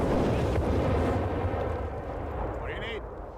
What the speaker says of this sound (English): Nebula Barrage goes absolutely bonkers there and wipes the anti-tank crew here